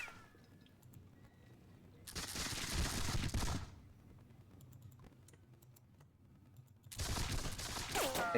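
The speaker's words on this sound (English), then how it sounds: "Exchanging the gunfire. Very ineffectively, mind you. Because of the range we're at." Musket volleys in a Seven Years War battle video game crackle out in two dense bursts, each lasting over a second, separated by quiet stretches with faint ticking.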